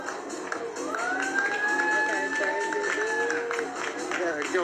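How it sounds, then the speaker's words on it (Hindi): An audience at a product launch event applauds and cheers for the event staff, with sustained crowd clapping and a long rising whoop over a steady background of voices. "तो एक बार जोरदार तालियां हो जाए हमारे AWPL के स्टाफ के लिए"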